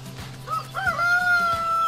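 Rooster crowing in the video game Force of Nature, a single drawn-out crow with a rising start and long held tone over a low steady background hum.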